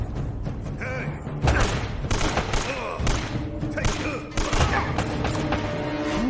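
Bursts of gunfire in Uncharted crack and thump in irregular volleys at close range, with a voice and mechanical clatter mixed in.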